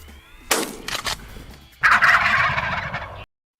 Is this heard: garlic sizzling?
no